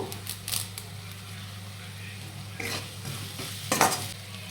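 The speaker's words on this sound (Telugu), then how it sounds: "ఈ అల్లం వెల్లుల్లి పేస్ట్ అనేది పచ్చివాసన పోయినంత వరకు కూడా వేయించాలి" Ginger garlic paste and curry leaves fry in hot oil, a steady low sizzle with brief stirring scrapes and clinks of a spoon against the pan, moderately close.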